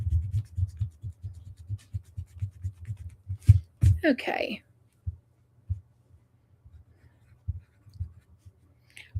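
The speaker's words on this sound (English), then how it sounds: "Good thing I'm using a pencil." A pencil scratches across paper at a craft table in short, rhythmic strokes, then pauses, with one brief spoken word partway through.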